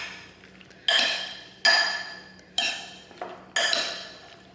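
A spoon mixing ceviche of wild caught fish, green onion and avocado in a bowl: five bright clinking scrapes against the bowl in a steady rhythm, close and fairly loud, each ringing briefly.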